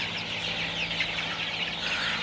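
Sonali super hybrid chickens cluck softly and continuously inside a poultry shed, a dense layered flock chatter over a steady low mechanical hum, with no voices.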